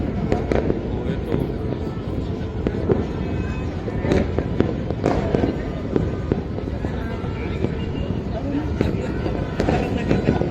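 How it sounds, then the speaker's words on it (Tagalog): Fireworks bursting outside near an office building, a dense run of loud cracks and booms with sharp pops scattered throughout, over steady crowd noise, while a person talks. "ang dami na nag-fireworks"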